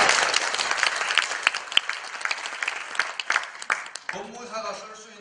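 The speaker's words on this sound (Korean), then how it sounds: "이러고 보통 딴 데가 막 박수를 칩니다" An audience at a Busan judicial scriveners' association lecture bursts into dense, lively applause for about four seconds, which then gives way to someone speaking.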